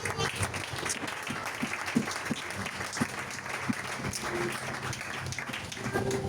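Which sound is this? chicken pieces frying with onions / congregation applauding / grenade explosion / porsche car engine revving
congregation applauding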